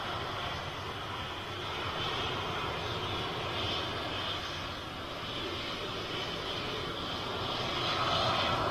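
A KLM jet airliner bound for Amsterdam roars steadily overhead, a broad continuous engine rumble that holds level and swells slightly toward the end, with no voices.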